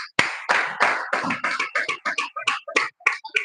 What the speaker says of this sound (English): I think you deserve a round of applause for that.